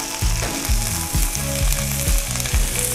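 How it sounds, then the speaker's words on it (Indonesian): Ground spice paste sautéing with bay leaves and lemongrass in a Teflon pan, giving a loud, steady sizzle broken by rhythmic scraping strokes of a spatula roughly twice a second, close and continuous without speech. "Lalu kita tumis bumbu yang dihaluskan bersama uh, daun salamnya dan uh, serai kita, kita tumis sampai harum ya teman-teman ya"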